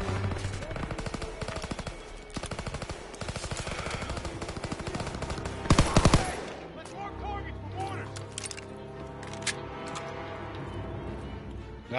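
Rapid automatic gunfire rattles through a Call of Duty WWII battle, long bursts of machine-gun fire with a sharp loud peak midway, then scattered shots and clatter, while a player talks faintly underneath.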